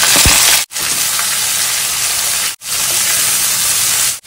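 Cabbage, carrots and green peas cook in hot oil seasoned with green chilli, curry leaves and asafoetida for vegetable poha, a loud steady sizzle briefly broken by short gaps.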